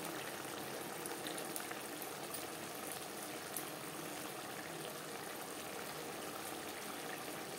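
Bele fish curry simmering in a tomato gravy, giving a steady, close bubbling and sizzling that runs without a break and holds an even level throughout.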